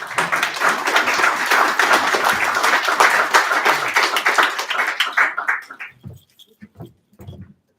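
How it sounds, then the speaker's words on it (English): An audience at a poetry night gives a warm round of applause for a poet coming to the stage, dense steady clapping that fades out after about six seconds, leaving a few scattered claps. "Give him a warm round of applause."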